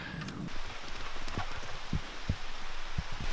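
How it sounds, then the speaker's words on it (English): Light rain begins to fall, pattering in scattered drops against a steady outdoor hiss, with a few sharper taps standing out near the end. "just like that, it starts to rain"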